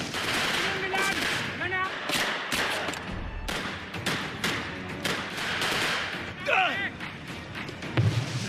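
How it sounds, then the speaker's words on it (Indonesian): Gunfire exchange in a World War II film battle against German mortar crews, rapid bursts of shots and thuds in a dense, busy mix with voices and effects throughout. "terjadilah kontak senjata"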